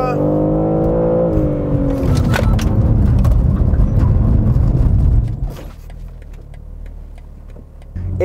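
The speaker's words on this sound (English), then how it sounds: "check out the braking performance of this M3 Competition" A 2021 BMW M3 Competition with ceramic brakes under a hard stop: steady loud road and engine roar, a falling engine note early on, then the noise drops away abruptly as the car halts.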